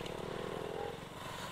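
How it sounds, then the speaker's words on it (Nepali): A slightly modified motorcycle engine runs with a low, throbbing, evenly pulsing idle. It is fairly faint and brief and heard alone. "मामाको बाइक पनि हल्का मोडिफाई छ"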